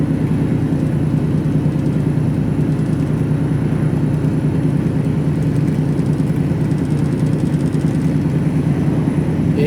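Mercedes Actros HGV truck engine labouring up a steep hill in eighth gear with a load of clay, a loud, continuous low diesel drone heard from inside the cab, steady throughout, no voices.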